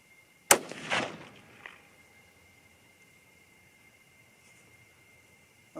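A single 6.5 Creedmoor rifle shot firing a 100 grain Hornady ELDm bullet over Varget powder cracks sharply once, followed by a brief echoing tail that fades into quiet outdoor air.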